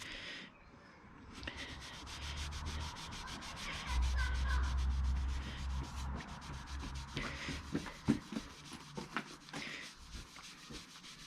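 A Subaru Impreza STI top-mount intercooler is polished by hand with an abrasive, giving a steady scratchy rubbing with short rhythmic strokes, close and fairly quiet, with no talk.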